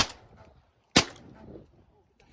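A single loud, close gunshot cracks out while hunting mallards in a flooded cornfield, followed by a brief echo and low outdoor background noise.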